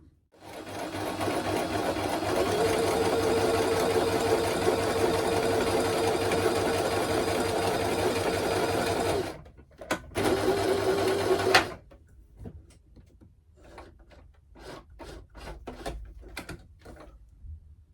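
A sewing machine stitches teddy bear fabric in a long, steady whir for about nine seconds, then gives a couple of brief bursts before stopping, followed by scattered soft clicks and handling noises.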